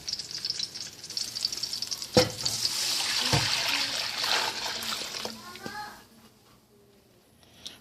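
Strained pork hock broth poured into a pot makes a steady splashing, liquid pour with a couple of sharp clanks partway, then tapers off into quiet at the end.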